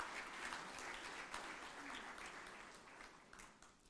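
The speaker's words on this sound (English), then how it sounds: "I think that deserves a round of applause." Dense, continuous applause from an audience at the GNBS National Quality Awards 2025 ceremony in Guyana fills the space, holding steady before tapering slightly toward the end.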